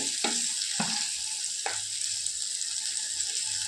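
Onions sautéing in a pan give a steady, bright sizzle throughout, broken by three brief scraping clicks of a utensil early on; close, with no talking.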